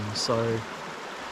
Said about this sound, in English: I'm here at Glenbrook Creek at the moment